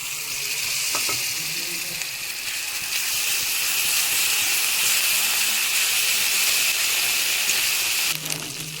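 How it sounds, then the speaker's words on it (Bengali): Cumin seeds and ginger-garlic paste fry in a pan with a loud, continuous sizzle and hiss, interrupted by a few brief clinks of a utensil. "ভালো গন্ধ ওঠে তার জন্য একটু ভেজে নিচ্ছি। জিরা আর আদা রসুনের পেস্ট দিয়ে দিলাম।"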